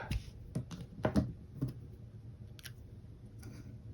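Scissors snip off the tail of a sticker while a planner is set up, giving a few faint, sharp cutting clicks in a quiet room.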